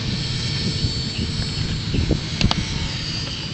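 A T-Rex 450 Pro RC helicopter flies nearby outdoors, a steady high whine with a few sharp clicks and thumps, and no talk over it.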